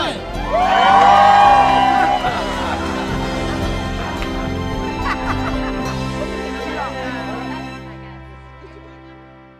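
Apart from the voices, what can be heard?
audience cheering and whooping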